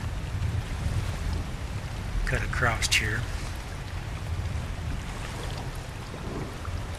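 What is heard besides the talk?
canoe moving through water in the video game ARK: Survival Evolved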